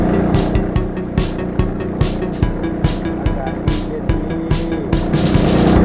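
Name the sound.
longtail boat engine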